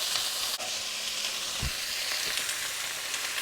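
Bell peppers sizzle steadily in a hot pan for smoked pepper steak, a close, continuous fry with a soft thump partway through and no talking.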